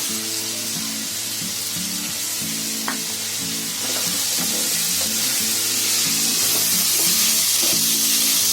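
Carrots and potatoes frying in a biryani pot, a steady loud sizzle with stirring scrapes and clinks running throughout, no talk.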